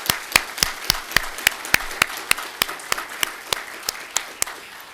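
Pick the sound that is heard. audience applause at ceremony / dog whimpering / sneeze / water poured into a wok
audience applause at ceremony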